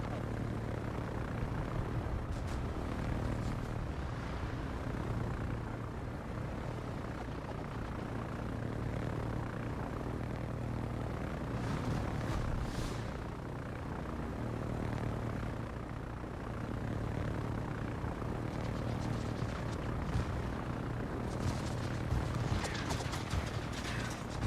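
Airplanes drone through a video game, a continuous propeller-like engine hum with mechanical rattling that holds steady for the whole stretch, fairly loud and without talk.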